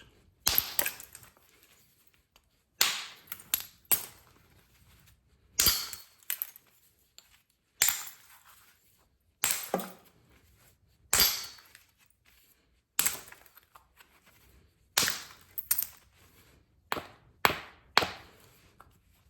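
Sharp, hard clacks of a stone striking chert land in quick clusters of two to four, separated by short quiet gaps, close and crisp, during flintknapping.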